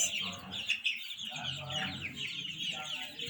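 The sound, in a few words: chickens clucking on a poultry farm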